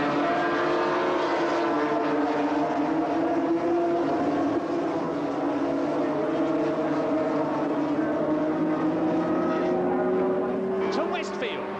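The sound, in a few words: Yamaha and Kawasaki racing motorcycles coming out of Druids Bend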